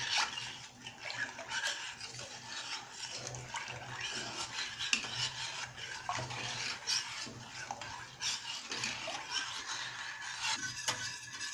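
Apricot tart mixture being whisked in a bowl, a steady scraping, clinking rhythm of whisk strokes against the sides, close and continuous with no voices.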